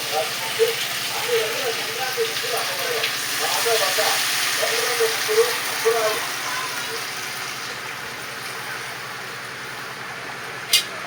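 Tamarind extract is poured into a hot pot for a village-style fish curry. A soft hiss and sizzle with small bubbling spatters sounds close and fades gradually, while a voice speaks quietly under it.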